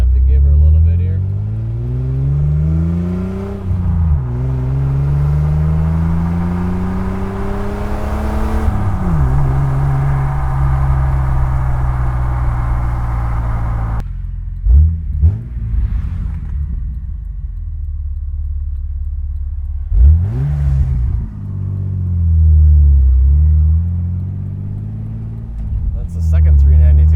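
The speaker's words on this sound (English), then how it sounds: "I just lightly give it some throttle" A manual transmission car engine under light throttle rises loudly in pitch through the gears, dropping at each shift and then climbing again, heard from inside the car with rumble throughout.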